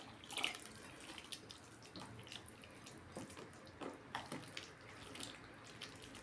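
Milk poured from a glass into pancake batter in a kitchen, a soft liquid splash and trickle with a brief louder burst near the start, then quieter pouring and faint clinks.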